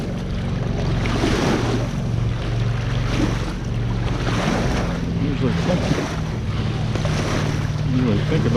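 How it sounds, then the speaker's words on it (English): Ocean surf rolls onto a Florida beach in a steady, continuous wash, with wind buffeting the microphone throughout and no pause in the roar. "Waves."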